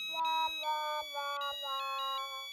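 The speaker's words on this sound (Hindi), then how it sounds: "अरे लेकिन वाकई में किसी का फोन बज रहा है।" A mobile phone rings with a bright electronic melodic tone, short repeating phrases of chiming notes, clear and close, playing alone without talk.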